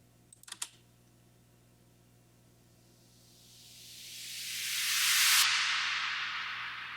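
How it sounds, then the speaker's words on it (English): A reverberant noise sweep in a house track swells slowly from quiet to loud, peaks, then trails off into a long washy tail of about eight seconds of reverb, after a few brief clicks at the start. "So there's this medium sweep here."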